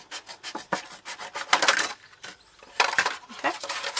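A blade cuts through a plastic milk bottle being made into roof tiles for a chicken coop, giving close, scratchy rasping strokes in uneven bursts with short pauses between them.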